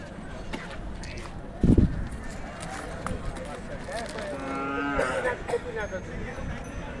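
At a bullock market in Kinvat, cattle low and moo nearby, with one deep, loud call and later drawn-out bellows. Someone talks throughout over crowd murmur.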